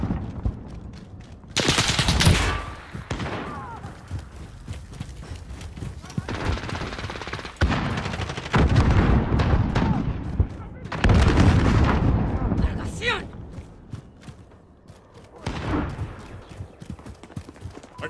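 Gunfire rattles in bursts through a Shoot House team deathmatch, with heavy blasts like a grenade going off close by and clipped squad callouts cutting in between the shots.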